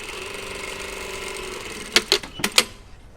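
A sewing machine tacks a denim jacket pocket flap onto the seam allowance, giving several short, loud mechanical bursts of stitching after a quiet steady hum.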